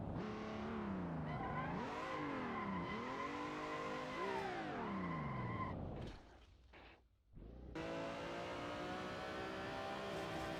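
A car drifting on a track, tyres squealing in long rising and falling wails over engine roar, loud and close, with a brief drop to near silence before the engine and skid noise resume.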